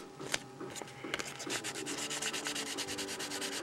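Sandpaper rubbing a model aircraft push rod end, a quiet rapid run of rhythmic scratchy strokes speeding up after the first second, close and alone.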